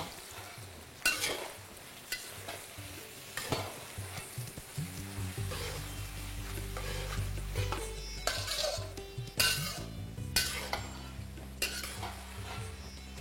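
Thinly sliced onions fry over a high flame for mutton kosha, sizzling steadily in a pan while a spatula scrapes and stirs with repeated sharp clinks and knocks against the metal, no talking.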